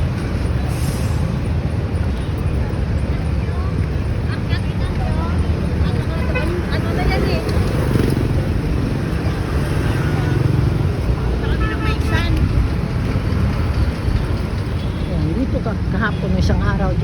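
Heavy street traffic on a city route from City Hall toward Terminal Karuhatan makes a loud, constant rumble of engines, with a voice talking over it.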